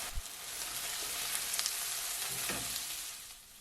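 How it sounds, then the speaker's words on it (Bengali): Chopped onion and chilli frying in oil for Old Dhaka style beef biryani, a steady close sizzle with small crackling pops and an occasional stir throughout, no voices. "রসুনে কালার চলে আসলে আমরা পেঁয়াজ ও মরিচ কুচি দিয়ে পেঁয়াজে হালকা কালার হওয়া পর্যন্ত ভাজতে থাকব।"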